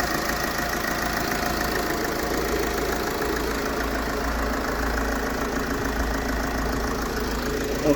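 A Mercedes-Benz Vito 111 van's 646 diesel engine idles steadily nearby, a constant low rattling hum with a knocking texture and no change in pace.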